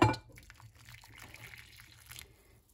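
Water trickles and pours gently into a yarn dye mix of blue dye powder, a quiet liquid splash and dribble that starts with a brief clatter and continues softly to the end.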